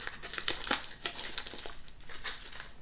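Foil wrapping peeled off British biscuits, making close, crisp crinkling and crackling in irregular bursts throughout, with no talking.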